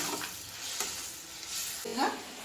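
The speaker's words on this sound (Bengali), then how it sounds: "এবার আমি জল দিয়ে দিলাম।" Water splashes into a hot pan of pointed gourd (potol) and potato curry, raising a quiet sizzle with stirring scrapes and a brief brighter hiss near the end.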